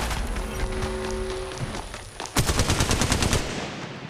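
Automatic gunfire in an Apex Legends Mobile squad fight, rapid bursts of shots ringing over game sounds, turning into a dense, loud volley near the end.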